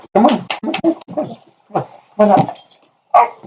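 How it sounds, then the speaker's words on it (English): Bella, a pet dog, whines and whimpers in short bursts close by, mixed in with a person repeatedly coaxing her in the same moments. "That's my dog whining."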